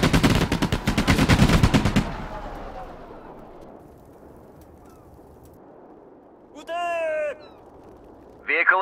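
Infantry gunfire from the Sudden Strike 4 World War II strategy game, set in the Battle of Saipan: a dense, loud burst of rapid shots for about two seconds, then a fading rumble and brief synthetic radio-style voice callouts.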